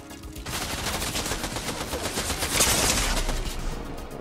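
Dense, continuous gunfire in a video game, a steady loud stream of overlapping shots with no pauses, heard up close.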